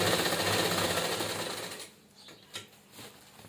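A sewing machine stitches a fabric tiffin bag with a steady, fairly loud mechanical whir, then stops, leaving a few soft handling clicks and taps.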